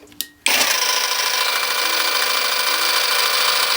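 A Revolt cordless jigsaw, a copy of a Makita, runs at minimum speed. After a brief click it starts with a steady, close, loud mechanical whir that holds evenly to the end.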